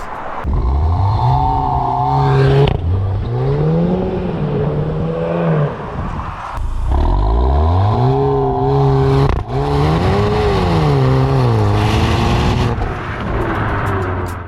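A Mk3 Audi TT with a 2.0 petrol engine and Quattro drive, its engine revving hard in repeated rising sweeps that drop sharply between pulls. The engine is loud and close, with no talking.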